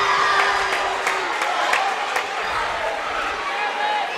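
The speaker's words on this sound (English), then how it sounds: "So Moignet with a lot of crowd noise got the first one." An indoor high school boys' basketball crowd murmurs and cheers in a continuous wash of noise during free throws, with a voice talking over it.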